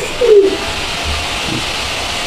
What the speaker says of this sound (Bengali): এটা লক্ষা কবুতরের একটা জোড়া